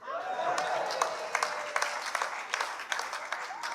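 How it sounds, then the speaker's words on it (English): Conference audience at the IFSW Africa Region social work conference claps for an organiser, with scattered, moderately loud applause and a few sharper individual claps standing out. "And you know one other reason why you clap for her?"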